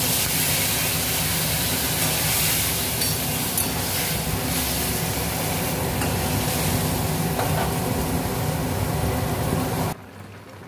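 A little water goes into a pan of red chili powder, Kashmiri chili and turmeric frying for raw mango chutney, producing a loud, continuous hissing sizzle up close that cuts off abruptly just before the end.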